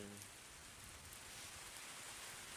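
Soft, steady rain falling outdoors at a toll road construction site, a faint continuous hiss with no talking.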